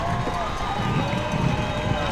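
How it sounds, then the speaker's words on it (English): Loud, roaring high school varsity football crowd cheering in the stands, a dense continuous wash of noise throughout, with an announcer talking over it. "That was the loudest I've ever heard this Bobcat crowd."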